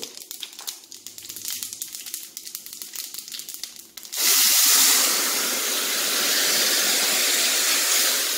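Liquid poured into a cooking pot for tomato rasam, a steady loud rushing hiss that begins abruptly partway through, after a stretch of faint clicking and rustling.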